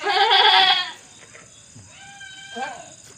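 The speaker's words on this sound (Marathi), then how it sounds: "शेळीला त्रास होतोय ती वरडते" A loud, wavering bleat from a goat in a difficult labour opens, followed by quieter strained bleats with a voice briefly talking in between.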